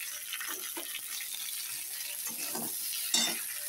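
Capsicum, onion, chopped green chili and tomato fry in a pan, giving a steady close sizzle with bursts of stirring scrapes and one brief sharp clink near the end; no one speaks.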